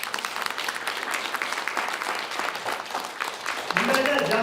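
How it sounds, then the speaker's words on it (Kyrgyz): Audience at a training session gives sustained applause, steady clapping with a voice joining over it near the end. "кол чабуулар өздөрүңүздөргө"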